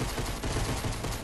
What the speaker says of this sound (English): I just hear a lot of gunfire and it makes me scared.